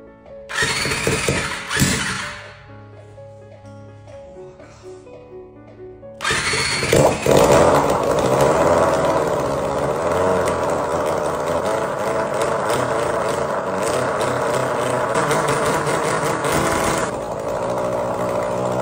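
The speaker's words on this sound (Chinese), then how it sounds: "没想到第一个发动机就这么顺利的启动着了" A 1990 Honda CBR motorcycle engine, revived after sitting 30 years, sputters briefly and dies, then after a pause roars to life and keeps running with a loud, steady rattling drone.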